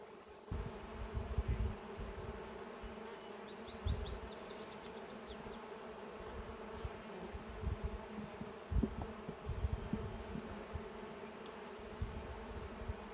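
Honey bees buzz around open hives being checked for laying queens, a steady close drone with passing louder buzzes and faint handling knocks, no speech.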